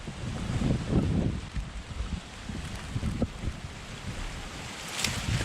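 Strong wind gusting outdoors at a fish-trap spot as Typhoon Noru moves in, a steady broadband rush with heavier low buffeting on the microphone, surging and easing over several seconds without talk.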